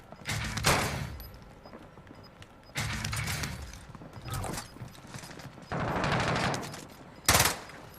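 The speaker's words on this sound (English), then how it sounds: "I'm taking fire." Gunfire in the video game Call of Duty Warzone, several bursts of rapid automatic fire separated by quieter pauses, ending in one sharp loud shot near the end.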